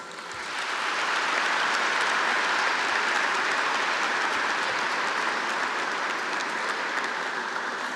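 Graduating seniors at a high school graduation ceremony in a large arena break into sustained applause, a dense roar of clapping that swells within the first second and holds steadily throughout.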